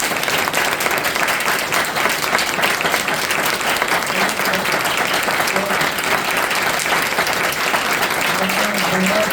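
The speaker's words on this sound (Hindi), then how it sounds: "एक बार उन फौजियों के लिए, सैनिकों के लिए, हमारे देश के रक्षकों के लिए बहुत जबरदस्त तरह से तालियां" Audience at a Republic Day devotional gathering applauding the country's soldiers, a loud, sustained burst of dense clapping from a large crowd that fills the whole stretch.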